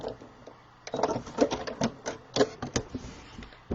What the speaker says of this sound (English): you go ahead and sew your 1/4 inch seam again